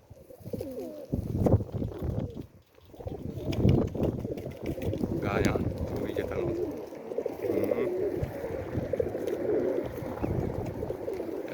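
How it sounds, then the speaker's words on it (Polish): Racing pigeons coo repeatedly, close by, over a steady outdoor background with someone talking intermittently. "tutaj przyszły gołębie"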